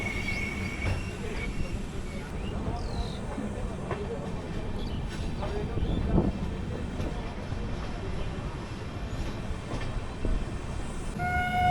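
Sairang Express from Kolkata rolling along the Howrah division line into Azimganj station: a steady, loud rail rumble with wheel clatter and brief high squeal tones throughout, no horn standing out.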